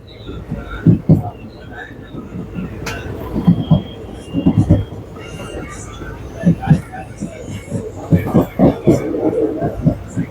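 Train rolling along rails with rhythmic wheel clatter and rumbling surges, loud and close, with people talking over it.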